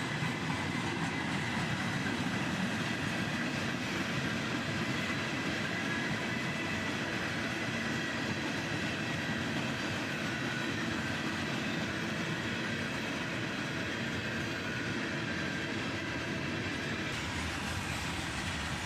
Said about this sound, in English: There was a big cut of empty flat cars on this train.